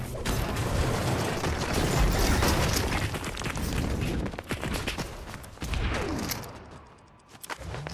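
Fortnite gunfire, with bursts of shots and booms that come thick and loud, then thin out into scattered cracks and mechanical clatter toward the end.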